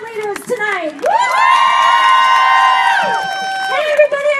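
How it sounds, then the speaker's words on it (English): A rally crowd cheers for its chant leaders, with loud sustained whoops and high shouted voices swelling together for a couple of seconds before settling back into scattered calls. "Let's give a round of applause for our chant leaders tonight."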